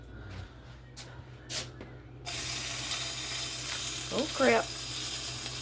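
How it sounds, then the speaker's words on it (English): Bacon frying in a pan for breakfast, a steady soft sizzle that starts abruptly and continues under a brief spoken exclamation, with a few clatters before it begins. "Alright, let's get this bacon on, y'all."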